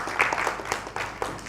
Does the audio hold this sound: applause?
yes